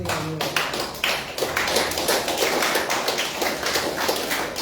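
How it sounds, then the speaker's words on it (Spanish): A church congregation claps hands in praise during a Sunday service, dense and continuous rhythmic clapping from many people, loud and close, filling the room without pause. "Alábale a Dios con tus palmas."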